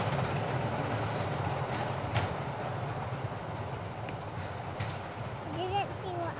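Two Sulzer diesel locomotives, 47192 and 26007, rumble along the Ecclesbourne Valley Railway toward Wirksworth, a steady diesel roar with rail clatter and a brief squeal, nearby voices murmuring underneath.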